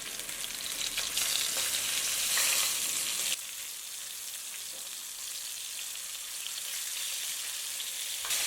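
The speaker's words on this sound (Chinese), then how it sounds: "蟹块沾上一层干淀粉，放入油锅当中煎制。" Starch-coated swimming crab pieces fry in a wok with a normal stir-fry amount of oil, giving a continuous bright sizzle that drops to a softer, steady crackle partway through.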